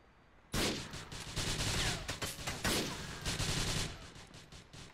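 A burst of automatic gunfire from a firefight in Grand Theft Auto IV erupts suddenly and keeps up as a dense, rattling stream of overlapping shots, loud and sustained for several seconds before tapering off.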